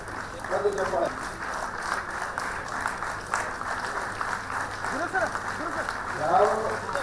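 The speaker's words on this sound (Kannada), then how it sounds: "ಚಪ್ಪಾಳೆ." Applause for Corona warriors at a felicitation event with a Union Minister; a steady crowd clapping runs throughout, with voices speaking over it at moments.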